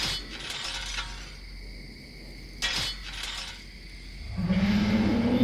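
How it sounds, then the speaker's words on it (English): A sharp metallic sound in the horror adventure game Death Mark 2, a brief shattering, clanking hit standing out over a dark, tense ambient drone, followed by a rising low rumble. "Don't tell me this is the sharp metallic sound from the rumor."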